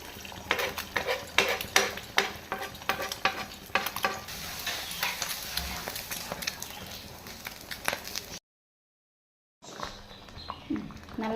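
Egg gravy cooking in a pan on the stove, with steady close bubbling and sizzling alongside clinks and scrapes of a spoon against the pan, then a brief silence before the sounds resume.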